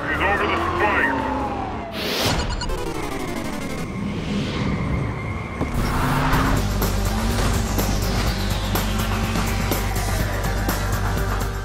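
Engines roar, tires squeal and police sirens wail during a car chase in the racing game Need for Speed World, with a loud crash near the start and a voice talking over the action.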